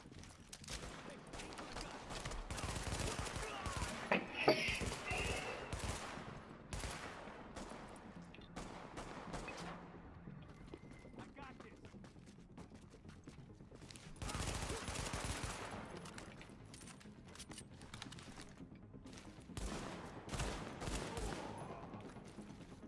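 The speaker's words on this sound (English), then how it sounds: "Sentry bullets." Sentry turret gunfire in The Division, bursts of rapid automatic shots in two main clusters, fairly quiet in the mix with scattered other battle sounds between.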